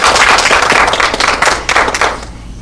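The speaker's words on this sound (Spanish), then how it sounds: "Damos un aplauso." Dense applause from an audience after a talk at an academic seminar, steady for about two seconds and then thinning out as the clapping fades.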